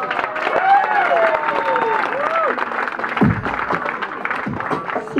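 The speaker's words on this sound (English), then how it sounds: "please give Uncle Kin Paris a round of applause." An audience applauds and cheers at a Democratic pocket meeting in Yigo. The steady crowd clapping runs throughout, with an announcer's voice speaking over it.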